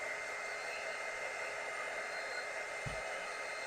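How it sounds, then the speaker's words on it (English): Heat tool shrinking a sublimation wrap onto a 20 oz skinny tumbler, a steady loud blowing whoosh that runs without pause, with a brief low thump near the end. "so y'all don't have to hear this obnoxious heat tool"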